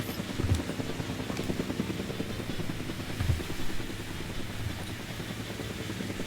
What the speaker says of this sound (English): Because I can keep hearing the helicopter.